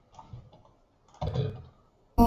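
Computer mouse buttons clicked while editing video in software, giving a few light, close clicks spread out with pauses, then a sharper, louder click at the end.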